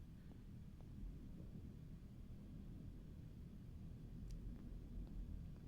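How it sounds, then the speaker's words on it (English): A storm rolling in over a survival train in Heat Death, heard as a low, continuous muffled rumble of wind and thunder, faint and steady, as if from indoors. "Here's the storm coming in"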